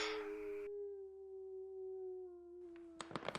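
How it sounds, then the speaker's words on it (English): A lone wolf howls in an eerie drama scene, a long, steady, moderately loud howl that holds for a few seconds before sharp clattering sounds break in at the end. "Big dog. I think it's a wolf."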